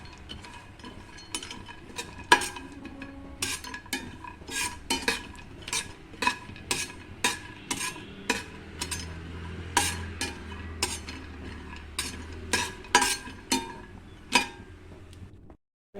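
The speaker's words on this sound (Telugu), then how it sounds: "స్పూన్ నెయ్యి వేసుకొని ఈ బాదం పిస్తాని ఇందులో ఫ్రై చేస్తాను." Almonds and pistachios fry in a little ghee while a spoon stirs them, producing a steady rhythm of sharp metallic scrapes and clicks against the pan, repeated every half second or so.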